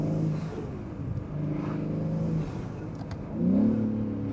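A 650 hp Manhart MH3 650 BMW M3 Touring accelerates, its engine droning with a deep, layered growl heard from inside the cabin. The note climbs in pitch and surges louder near the end.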